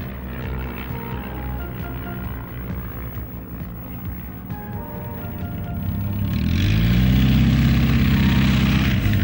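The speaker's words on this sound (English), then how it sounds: "These aircraft are one of the most prolific types to be seen at air shows and are still flown in everyday use" Propeller-driven warbird taildragger flying at an air show, a droning engine that swells louder and rises in pitch as it passes closer toward the end.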